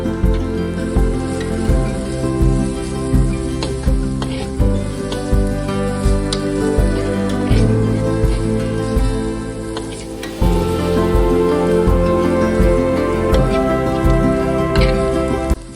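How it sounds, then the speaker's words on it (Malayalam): Onions sauté in a hot pan with coriander powder and garam masala for a beef dish, a loud continuous sizzle with regular clacks of a spoon or spatula stirring throughout, backed by steady tonal background music. "ഇനി ഇതിലേക്ക് കുറച്ച് മല്ലിപ്പൊടിയും ഗരം മസാലയും കൂടി ചേർത്ത് കൊടുക്കുക. എന്നിട്ട് നന്നായിട്ടൊന്ന് വഴറ്റി കൊടുക്കുക."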